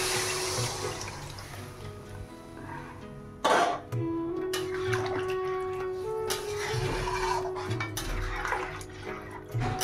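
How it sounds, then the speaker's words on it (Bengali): Jaggery water poured into a pan of fried mango pieces for sweet mango pickle, giving a splashing, bubbling pour with a brief loud burst, then continued sizzle and liquid sounds nearby. "গুড় জলটা দিয়ে দেবো।"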